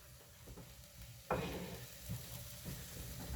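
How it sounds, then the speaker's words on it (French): Low sizzling of shallots in a frying pan with a little olive oil, with a sharper crackling burst as they hit the hot oil, then steady frying with faint stirring. "on va mettre une poêle à chauffer avec un petit peu d'huile d'olive. Et on va d'abord faire revenir les échalotes"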